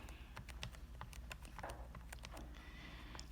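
Keys tapped rapidly on a statistics calculator while numbers are entered, a close, quiet series of crisp clicks with an uneven rhythm over faint background hum.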